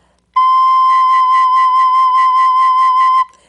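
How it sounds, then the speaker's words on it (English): A D penny whistle sounding one clear, sustained note for about three seconds, loud and close, with a gentle waver in tone and a clean start and stop in otherwise quiet surroundings. "Now here is the D penny whistle,"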